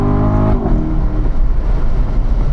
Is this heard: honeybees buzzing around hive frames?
no